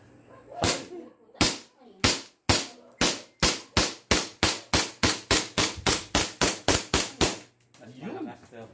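A .45 caliber 1911 commemorative pistol fires about twenty loud, sharp shots in a quick, steady string at close range, and people talk briefly at the start and end.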